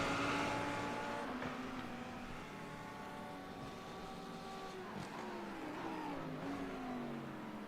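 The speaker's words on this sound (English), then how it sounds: "Hear that downshift, and you saw the brakes get real red there." A race car at Laguna Seca in a racing video game downshifts and brakes, its engine note stepping down in pitch over several seconds at moderate, steady loudness.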